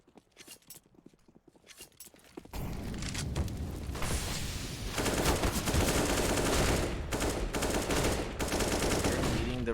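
FAMAS rifle fire in a Counter-Strike match, quiet clicks at first, then dense rapid gunfire bursts and clattering shots that stay loud and continuous to the end.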